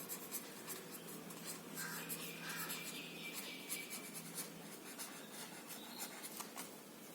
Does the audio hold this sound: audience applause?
no